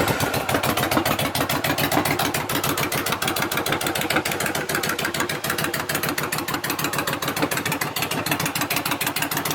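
Yamaha V Star 1100 bobber with loud exhaust idling, a close, steady rapid thumping pulse that stays even throughout with no talking.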